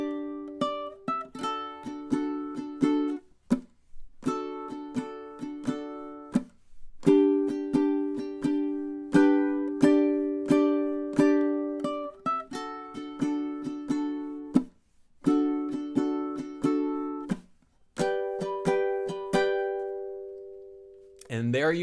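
Ukulele plays the last B section of a song, bright strummed chords in a steady bouncing rhythm with brief pauses between phrases, ending on a held chord, close and unaccompanied.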